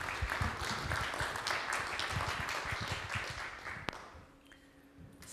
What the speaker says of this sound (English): A big round of applause, please, for Natasa.